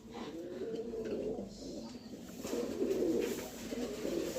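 Pet pigeons coo steadily and softly in their loft, a continuous low murmur of overlapping calls that swells slightly toward the end, with no talking.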